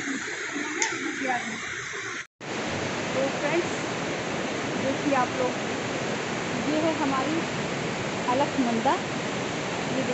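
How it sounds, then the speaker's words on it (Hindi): The Alaknanda river rushes at the Rudraprayag confluence with a loud, steady roar of broad flowing water, continuous throughout apart from a brief cut near the start, and a voice talks faintly underneath. "देख के बहुत डर लग रहा है क्योंकि बहुत ज़्यादा बड़ी और गहरी नदी है"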